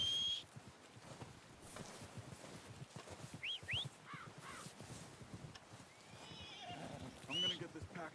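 In Red Dead Redemption 2, a horse gives a couple of clear whinnies over soft hoof clops and wind, with someone talking nearby.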